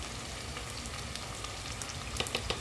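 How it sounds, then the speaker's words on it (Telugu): Fresh homemade ginger paste frying in a pan for goat head curry, a steady close sizzle with soft crackles and a few sharper pops near the end, no talking. "అల్లం మంచిగా వేపుకోవాలి"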